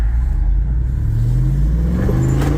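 A Jeep's exhaust rumbles steadily while driving, with a rising engine drone as it revs and accelerates, loud and close with no talking.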